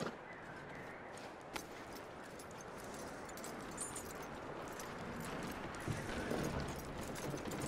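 In Red Dead Redemption 2, a horse's hooves clip-clop faintly under a steady ambient wash, soft and irregular, with a few slightly louder steps toward the end and no talking.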